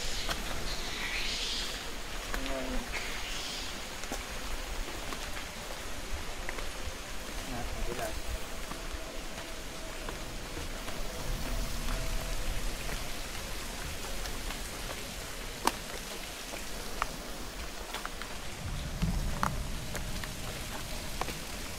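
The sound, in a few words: rain falling during a hike in a park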